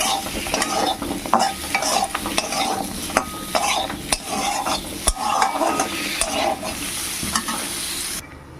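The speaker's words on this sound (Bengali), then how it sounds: "সেদ্ধ না হওয়া পর্যন্ত একটু ভাজা ভাজা করবো" Pumpkin seasoned with salt and turmeric fries in a pan, sizzling under steady, rhythmic scraping strokes of a spatula that repeat closely for several seconds before stopping abruptly.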